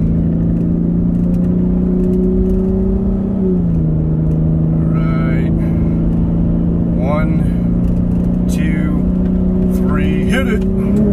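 Car with a 3.6L Pentastar engine on nitrous, droning loud and close at steady revs with a shift in pitch partway through, while people talk over it.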